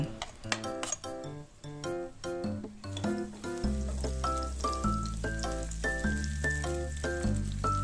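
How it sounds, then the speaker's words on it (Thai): Vegetable oil sizzles steadily in a wok with garlic frying, accompanied by repeated metallic clinks of a utensil against the wok. "ตั้งกระทะใส่น้ำมันพืชลงไป เจียวกระเทียมให้เหลืองหอมก่อน"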